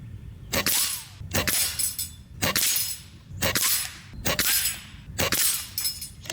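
A JTS Brawn bullpup PCP air rifle fires repeatedly, roughly five sharp cracks at a steady pace, each followed by the clatter and smash of a target breaking, loud and close with no talking.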